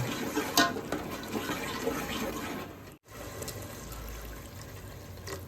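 Water runs steadily into a curry pot of tomatoes and spices for chapdi shaak, a continuous close pouring and splashing with a short break midway before it resumes.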